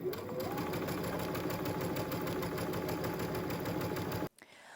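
A sewing machine running a line of gathering stitches in fabric for a ruffle tote, a steady close mechanical whir that cuts off abruptly near the end, no talk.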